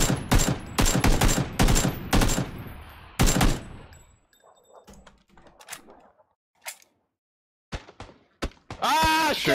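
Rapid bursts of gunfire in the battle-royale game PUBG during a duos match, loud clustered volleys and single shots up close, then a pause with scattered distant cracks and a sharp burst at the end, under a player's voice.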